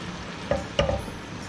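Ginger-garlic paste hits two tablespoons of hot oil, giving a soft, steady sizzle with a couple of brief spoon clinks as it is stirred, quiet and close.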